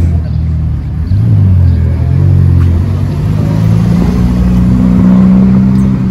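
A blue Ferrari F12 TDF sports car drives on a road near Monaco, its engine a loud, steady low rumble with rising revs and a sustained note building toward the end.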